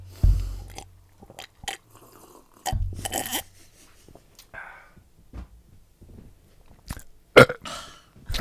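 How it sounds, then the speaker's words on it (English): Close-up gulping and swallowing of a drink right at the microphone, several wet mouthfuls with pauses between them, loud and isolated with no talking. "enjoy the sound of me drinking"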